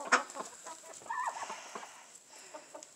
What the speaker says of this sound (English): the leader of all the chickens, is those two roosters right there.